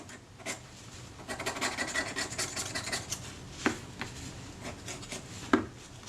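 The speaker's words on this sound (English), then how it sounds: "This is the back surface I'm cleaning." Steady rubbing and rasping as a corroded part from a Kodak Retina IIIS camera has its surface scrubbed clean, close and continuous, with a couple of sharp knocks near the end.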